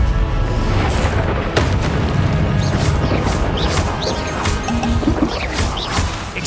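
Confringo spell blasts in Hogwarts Legacy, a dense run of booming, crashing explosions layered over continuous game noise, loud and close with no talking.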